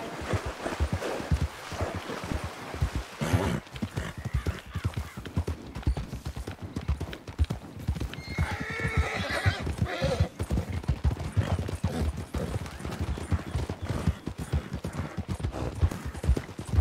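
A horse in a video game roleplay clip-clops steadily with repeated hoofbeats, and a whinny rises around the middle, all moderately close with no talk over it.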